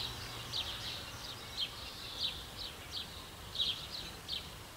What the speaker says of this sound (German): Das Vogelgezwitscher ist so herrlich.